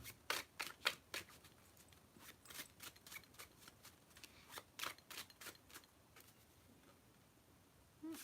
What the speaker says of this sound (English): I feel like I need to riffle shuffle yours